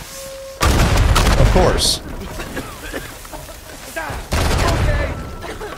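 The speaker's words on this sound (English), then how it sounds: "There's more exploding mummies." Exploding mummies in the video game Uncharted 4, heavy booming blasts with crackling debris, one burst early and another near the end, while someone speaks briefly between them.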